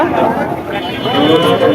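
A bull moos at a busy cattle market while traders haggle loudly nearby, the animal's low call partly buried under constant crowd chatter.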